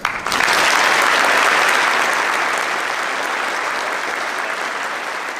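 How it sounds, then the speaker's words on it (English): A school assembly audience applauds veterans at a Veterans Day gathering, a loud sustained round of applause from a large crowd that swells quickly and slowly tapers. "let us show our appreciation to all veterans by giving them a round of applause"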